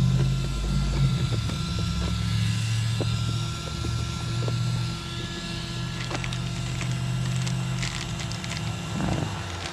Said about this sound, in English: that 2050 kV motor, she's gone. You can hear it.